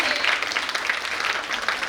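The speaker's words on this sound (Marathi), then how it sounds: "सर्वांनी टाळ्या वाजवायच्या." An audience at a school Independence Day program claps together, a dense, continuous patter of applause from many hands at moderate distance, with no voices.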